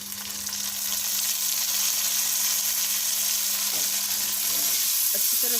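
Tomatoes tossed into frying ginger-garlic paste for a mixed vegetable curry, a loud continuous close sizzle with a faint low hum underneath.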